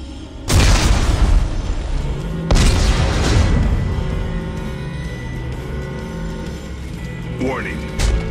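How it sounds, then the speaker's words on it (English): Heavy explosions boom in the Dead Space 3 video game: two big blasts a couple of seconds apart, then a long rumbling roar with scattered debris and a closing thud, loud and close. "Computer, arm explosives. And detonate."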